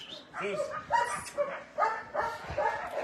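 A dog barks and yips in several short, fairly close bursts in quick succession, with a person talking over the sounds.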